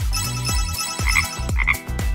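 A cartoonish frog croaking in a repeated low rhythmic pattern, with bright electronic chirps mixed in, loud and close with no talking.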